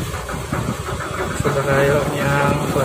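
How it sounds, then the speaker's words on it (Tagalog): The bow thruster of the ship MV 2GO Masigla working while docking at the port in Iloilo City, a loud steady mechanical rumble with a droning hum, while people talk over it. "Gamit na niya thruster, oh, pangontra."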